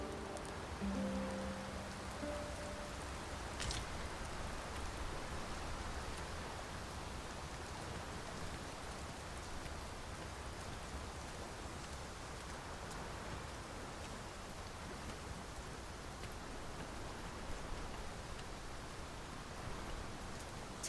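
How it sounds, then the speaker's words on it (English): Steady rain falling in a video game, a constant even hiss of drops on the ground that holds at moderate loudness for the whole stretch, with a few faint tones near the start and no talking. "We can push through a bit of rain, sure."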